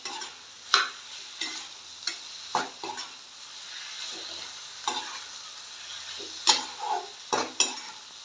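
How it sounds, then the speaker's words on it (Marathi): Drumstick leaves cooking in a pan with salt and red chilli are stirred with a spoon, producing soft irregular scrapes and taps over a quiet, steady sizzle. "मीठ घालून घेते थोडं लाल तिखट घालते भाजी ढवळून घेते चांगली"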